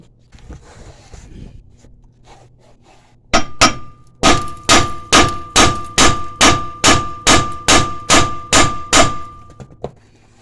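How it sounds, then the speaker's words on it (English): A hammer strikes the front lower ball joint of a 2011 Kia Ceed with a dozen loud, evenly spaced metallic blows after a couple of opening knocks, close and ringing. "We'll give that a clout with the hammer."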